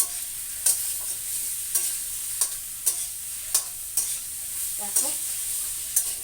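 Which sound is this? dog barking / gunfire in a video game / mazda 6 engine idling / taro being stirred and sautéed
taro being stirred and sautéed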